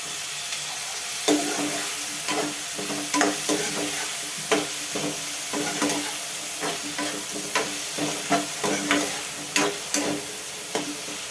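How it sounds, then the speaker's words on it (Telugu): Onions and brinjal pieces fry in a pan with a constant dense sizzle, broken by repeated sharp scrapes and taps of a spoon stirring, close and fairly loud, with no voices. "ఉల్లిపాయలు మగ్గిపోయి వంకాయ ముక్కలు వేసుకుందాం"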